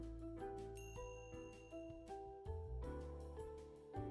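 A video-game bistro's entrance bell rings out in a bright, lingering chime against soft, steady background music with shifting tonal notes, with no talking.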